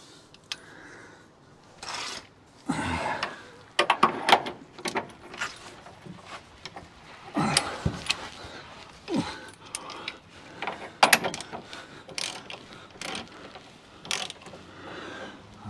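A bolt being wound up by hand on a Holden HK idler arm, with irregular metallic ratcheting clicks, creaks and clanks close up, bursts of activity separated by short pauses.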